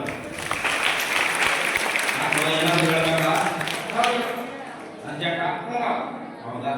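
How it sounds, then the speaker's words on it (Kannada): A short burst of clapping from a small group mixed with excited talking and laughter, fading as voices continue. "ಓಕೆ ಒಂದು ಚಪ್ಪಾಳೆ"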